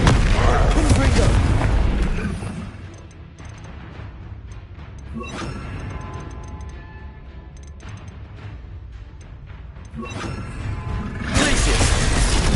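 Confringo blasting curse explosions from the Hogwarts Legacy video game come as repeated loud, near booms with shattering crackle, one burst at the start and more near the end, each separated by busy game noise.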